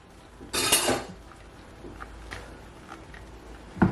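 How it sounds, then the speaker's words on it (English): Chicken and mango juice are mixed in a bowl, giving one loud clattering scrape early on, then soft clinks and taps, and a final knock at the end. "Then you just wanna mix it"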